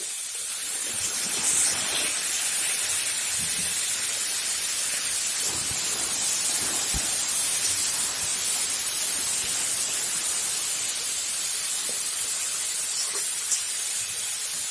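Peas with potato and onion shoots frying in mustard oil in a pan, a steady close sizzling hiss that holds evenly throughout with a few faint clinks.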